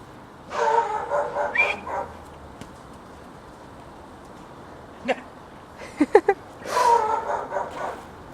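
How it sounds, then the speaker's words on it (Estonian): A dog on a walk at an animal shelter gives bursts of whimpering, yipping barks in two spells, with a few short sharp sounds between them, close and fairly loud. "nii tore koer."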